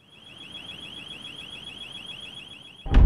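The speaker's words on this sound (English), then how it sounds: "Anytime you hear an alarm," A building alarm goes off in a dead-end hallway where a would-be thief is trapped, a steady warbling electronic tone repeating rapidly at constant volume, then cut off by a sudden loud thump at the end.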